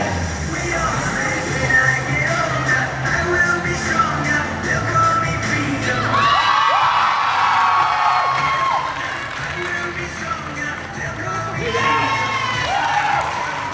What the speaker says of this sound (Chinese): 让小朋友看得掌声连连